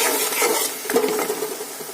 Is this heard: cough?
no